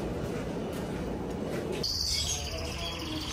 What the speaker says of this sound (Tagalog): may mga ibon, loro, oh